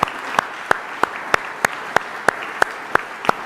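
An audience at a trade ministers' session applauds a prime minister, with sharp claps landing in a steady, evenly spaced rhythm over a low crowd hum.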